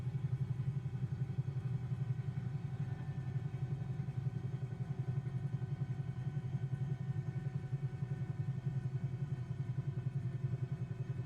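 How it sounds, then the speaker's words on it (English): Simulated Bell 222B twin-turbine helicopter engines run steadily in Microsoft Flight Simulator as they are throttled back, a constant low droning hum with a faint rhythmic flutter and no voices. "First, I'll throttle back the engines."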